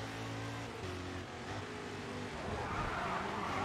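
Race car in the Rough Grid 2 video game sliding through a corner on the handbrake, a steady engine drone rising into a gritty tire skid near the end, moderately loud with no talking.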